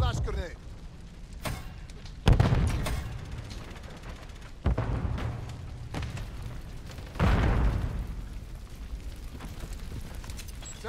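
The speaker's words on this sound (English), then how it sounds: "Throwing flash grenade." A flash grenade goes off in Call of Duty: Modern Warfare III, one of several sharp booming blasts in a busy match, with a player talking over the game sounds.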